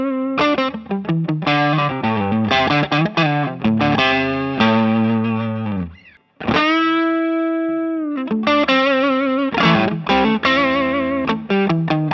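An electric guitar plays through a Tube Screamer overdrive pedal with a JRC chip, drive at zero: a busy series of crisp picked notes and chords, one long ringing chord midway, then more rapid strums, loud and close.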